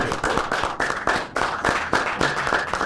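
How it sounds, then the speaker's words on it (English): A small group claps for a contestant on a hot chicken wing eating show, a brief burst of close, sharp, uneven handclaps with no talking. "In fact, round of applause for Stacey."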